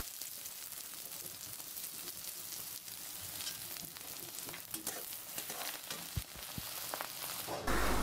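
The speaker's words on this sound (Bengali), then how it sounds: "এখন চুলায় একটি কড়াই বসিয়ে কড়াইটা গরম হয়ে এলে পরিমাণ মতো সরিষার তেল দিয়ে দিচ্ছি পেঁয়াজ কুচি।" Chopped onions hit hot mustard oil in a wok, giving a soft, steady sizzle with scattered crackles and stirring scrapes, quiet overall, and a louder clatter at the very end.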